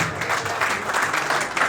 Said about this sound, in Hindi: भरपूर तालियों में खड़े हो गए